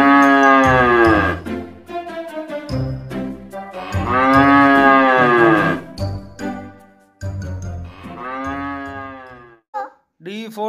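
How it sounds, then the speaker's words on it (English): A cow moos in several long, loud, drawn-out calls close by, with short pauses between them and a faint bell-like tinkle near the end. "C for cow. C for cow."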